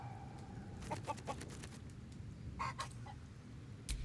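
Chicken clucking in the Baldur's Gate 3 video game, several short bursts of clucks with a brief squawk near the end, moderately faint over a low ambient hum.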